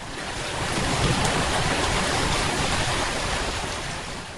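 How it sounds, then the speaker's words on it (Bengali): Heavy rain pours down at a temple roadside, a dense, loud, unbroken roar of falling water that swells and eases slightly, with no voices. "আসার পরে এমন জোরে বৃষ্টি শুরু হয়েছে যে আমাকে দাঁড়াতে হয়েছে"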